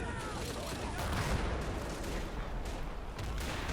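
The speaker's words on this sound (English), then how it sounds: "French artillery hitting the beach" Artillery shells pound a beach during an amphibious assault in a war video game, a dense, continuous roar of explosions and gunfire filling the whole stretch at steady, loud intensity.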